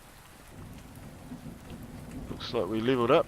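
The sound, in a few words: rain and thunderstorm in the video game Solace Crafting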